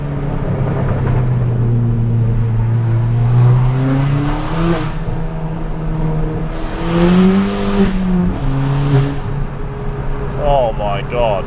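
Straight-piped Ford Fiesta ST heard from inside while driving, a loud raspy exhaust drone rising and falling through revs and gear changes, with brief crackles between pulls.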